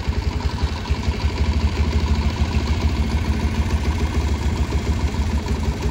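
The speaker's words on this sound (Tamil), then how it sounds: "வண்டி ரேஸ் கொடுத்து அப்படியே அடைக்குதுங்க, அப்படியே ஆஃப் ஆகுது." A Bajaj Pulsar BS6 motorcycle with a faulty MAP sensor runs close by with a steady, rough low engine note throughout, holding near idle rather than clearly revving up or dying out.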